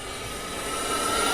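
An RC Hongdu K-8 jet makes a fast downwind pass at full throttle. A steady rushing whine swells slightly louder as it passes, with no voices.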